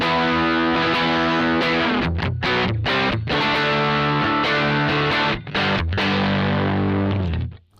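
Electric guitar with a bright, distorted rock tone through a Marshall JTM 1 50th Anniversary amp head, treble raised; sustained chords and notes ring loud and continuous with a few short gaps, no talking.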